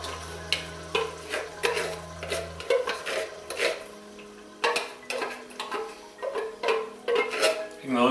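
Fire-roasted crushed tomatoes go into a hot pot with a brief sizzle, followed by repeated scraping and stirring of a utensil against the pot, close and steady, with a low hum early on.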